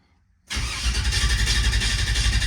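A G-Body car's engine cranks and fires after a moment of near silence, then settles into a loud, steady idle at close range.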